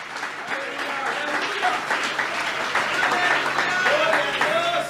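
A church congregation at an evening vigil gives loud, sustained applause to the Lord, steady crowd clapping with voices and shouts mixed in throughout.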